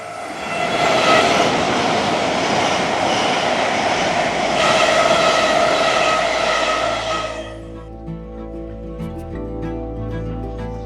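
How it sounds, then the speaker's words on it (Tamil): A loud rushing roar of a high-speed train arriving at a London station sweeps past for several seconds, then fades to a low hum with faint clicks. "இந்த ட்ரெயின் தான் வரப்போகுது பார்"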